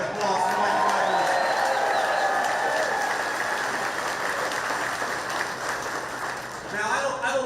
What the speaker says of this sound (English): let's give a round of applause for Mike Rogers